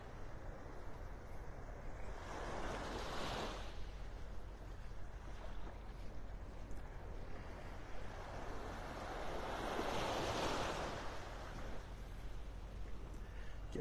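Ocean waves wash onto the beach at North Naples, Florida, a soft, distant rushing surf that swells twice and fades between, with faint wind and no talking.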